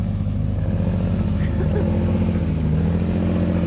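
A Toyota Supra MKIII with a 1JZ engine runs steadily and loudly at close range, its harmonics holding a sustained drone for the full few seconds with slight fluctuations in pitch as it revs.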